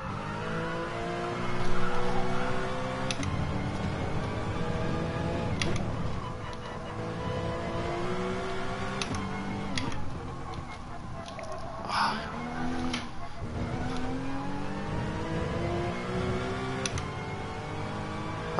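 A race car engine in the Gran Turismo Sport video game revs and shifts through gears steadily, the engine tone rising and falling continuously with a few brief sharp accents.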